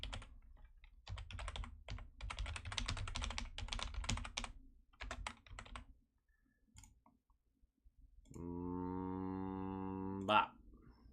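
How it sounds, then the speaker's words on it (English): A very loud computer keyboard placed right beside a microphone clatters in rapid bursts of typing for several seconds, then falls quiet before a sustained hummed or sung tone. "this is the loudest keyboard ever, and it's right next to my mic"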